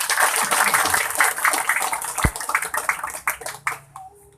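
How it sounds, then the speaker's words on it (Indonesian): Applause from the audience at a dhikr gathering, a dense wash of many hands clapping that fades and thins toward the end. "Tepuk tangan dulu."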